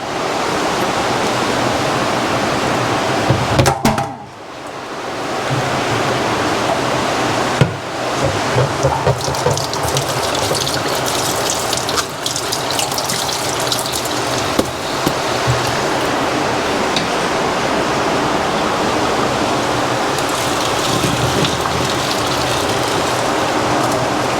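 Heavy rain pours steadily in a dense, close hiss, with a few brief knocks and shifts but no voices.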